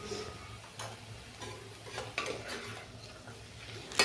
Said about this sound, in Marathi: मी ह्या भाज्या छान परतून घेत आहे.